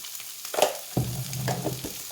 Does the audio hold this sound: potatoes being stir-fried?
yes